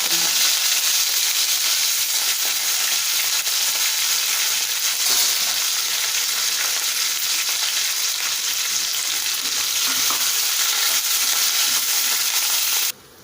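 Green chillies and coriander sizzle steadily in a hot pan of tempering for khaman dhokla, a dense, even crackling hiss that runs unbroken for over twelve seconds with no talking.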